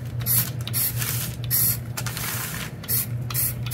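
Spray paint hisses from a nozzle in short bursts of a few bursts each, close and loud over a constant background hum.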